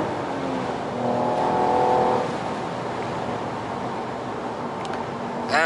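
A 2020 Mercedes E53 AMG 4Matic driven fast, with a steady loud engine and road roar from inside the car and a brief rise in engine note partway through.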